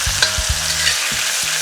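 Prawns fry in hot oil in a wok, a bright steady sizzle punctuated by close, heavy clacks of a utensil stirring and turning them.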